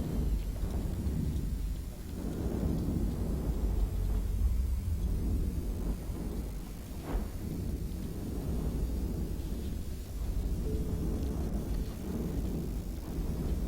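Deep rumbling booms and a steady roar of space-battle explosions from the EVE Online video game, loud and continuous, with a few swelling blasts rising out of the din.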